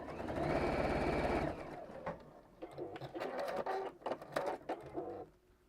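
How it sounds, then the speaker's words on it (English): A sewing machine stitching fabric, one fast steady run of needle clatter for about a second and a half, then short bursts and clicks of repositioning, close and moderately loud. "let's go to my middle section again and sew the first one across"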